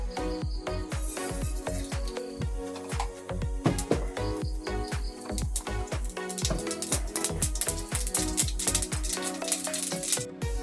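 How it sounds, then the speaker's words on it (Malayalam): Mustard seeds crackle in hot coconut oil in a pan as a dense, continuous stream of sharp little pops and ticks, close and steady throughout, with no talking. "നമ്മുടെ കടുക് പൊട്ടി"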